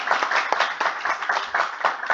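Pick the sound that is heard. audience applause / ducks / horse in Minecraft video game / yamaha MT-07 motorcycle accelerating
audience applause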